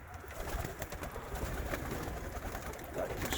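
Vienna flight pigeons coo softly in an aviary, low repeated throaty calls over a dense, noisy background.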